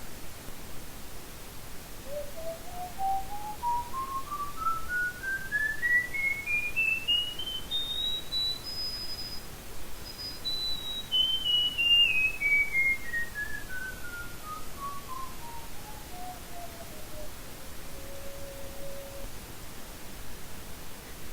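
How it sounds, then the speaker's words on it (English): A single clear whistled tone glides steadily upward in pitch, peaks, then slides back down, sustained over a soft hiss with no talking. "the 3 steps to produce a whistling sound"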